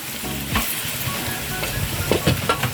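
Chana masala spice paste sautés in a pan, a steady close sizzle with scraping stirs and a few louder spatters toward the end.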